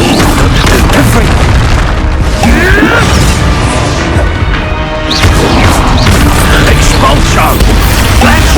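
Loud, repeated booming blasts of the Expulso explosion spell in the Hogwarts Legacy video game, crashing and smashing over dense game music and effects.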